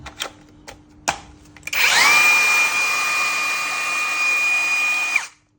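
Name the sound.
Makita cordless angle grinder running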